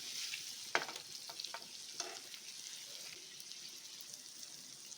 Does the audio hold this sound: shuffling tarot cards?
no